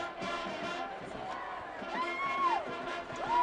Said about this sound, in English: Student body section for Franklin, trying to cheer their Rebels on to get that tying score.